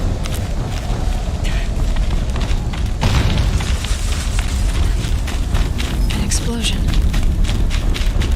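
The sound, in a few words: explosion in the video game Horizon Zero Dawn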